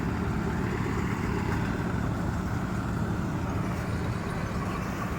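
A tractor engine idles with a steady, low, continuous rumble, close and fairly loud, with no other sounds standing out.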